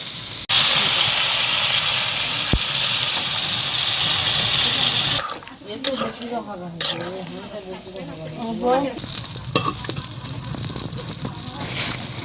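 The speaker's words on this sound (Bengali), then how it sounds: "এই যে পানিটা দিয়ে দিলাম।" Water is poured into a pan of simmering fish curry with potato and eggplant, producing a loud, steady hiss and sizzle for several seconds that settles into bubbling as someone speaks.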